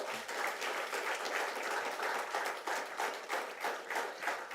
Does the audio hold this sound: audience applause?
yes